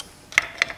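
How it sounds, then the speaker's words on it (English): A torque wrench ratcheting on a bolt of a small Briggs engine, two short close clicks about a quarter second apart in a quiet space. "Let me get my torque wrench."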